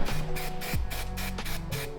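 Black aerosol spray paint hisses onto a stained car seat in a Cupra in several short, close, loud bursts with brief gaps between them, over a low steady droning hum underneath.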